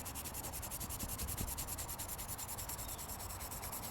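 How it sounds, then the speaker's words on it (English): A cloth steadily rubs tarnish off a silverware spoon, making a continuous, even, rhythmic scrubbing friction that is close and moderately loud, with no talking. "And then you use your cloth and you start kind of rubbing it off"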